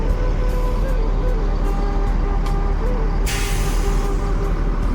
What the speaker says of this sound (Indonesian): Bus pertama yang sampai di Terminal Kampung Rambutan ya, bus dari Ranah Minang, Palala Motegi.